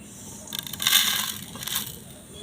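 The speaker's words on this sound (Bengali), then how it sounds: "এই মশলাগুলো আমি গুঁড়ো করে নিচ্ছি।" Roasted whole spices, cumin, fennel, dried chillies and peppercorns, being crushed into powder: one harsh grinding burst of about two seconds that swells and fades, close and fairly loud, with no talk.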